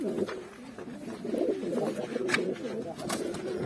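Repeated low cooing of pigeons close by in a coop in Antalya, a continuous soft throaty murmur with a few brief clicks.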